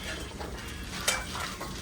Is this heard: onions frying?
yes